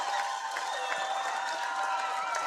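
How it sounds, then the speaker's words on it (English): Crowd cheering at a wheelchair football grand final between Hawthorn and its opponent, a steady wash of voices and applause close to the end of a tight match, continuous and moderately loud throughout. "Crowd's cheering them on."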